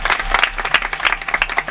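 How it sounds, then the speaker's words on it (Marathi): Crowd at a Marathi devotional kirtan discourse claps together, a lively burst of many individual hand claps with distinct sharp peaks, fairly close and loud, with no talking. "एकदा तर बघा टाळ्या वाजव."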